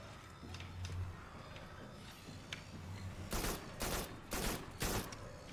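Shotgun blasts in the video game Farpoint, four loud sharp shots in quick succession over game background noise, following a quieter ambient stretch.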